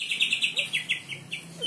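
A white-rumped shama, a songbird kept for competition, sings a quick run of bright, close, repeated chirping notes in a steady rhythm.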